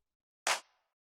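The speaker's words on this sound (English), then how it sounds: "Like it's just a really nice, powerful clap." One fat, powerful techno clap drum hit sounds alone, a single loud, bright burst of noise with a brief fading tail, surrounded by silence.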